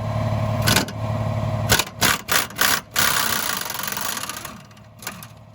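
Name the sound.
impact wrench removing strut bolts with 18 mm socket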